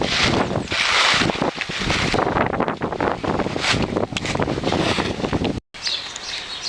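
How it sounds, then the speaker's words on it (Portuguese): Strong wind on a beach buffets the microphone in a loud, continuous roaring rush with surging gusts, cutting out for a moment near the end. "aqui é meio difícil de falar por causa do vento"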